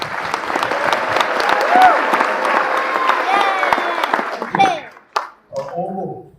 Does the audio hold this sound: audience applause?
yes